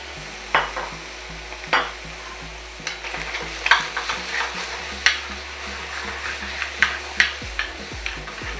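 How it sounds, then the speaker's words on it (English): Shrimp sizzle in a pan beside pushed-aside aromatics for spicy chili shrimp, a soft continuous fry under a run of sharp utensil clicks and stirring taps spaced every second or so. "Now I'm going to push all the aromatics out to the side. We'll throw the shrimp right in the middle."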